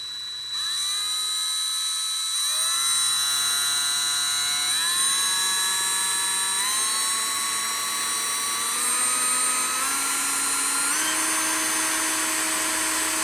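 A Parkside 20V cordless drill whirs up in stages, its high whine stepping higher in pitch several times as the speed climbs, close and steady.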